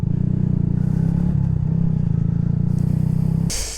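A 2014 Yamaha YZF-R125 motorcycle engine runs while riding, a loud, steady, buzzing low drone with slight shifts in pitch. It drops away near the end into a short burst of wind-like noise.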